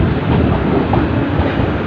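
Class 450 passenger train passing at Clapham Junction, a loud, steady broadband rumble and rush of wheels on rail, close and alone.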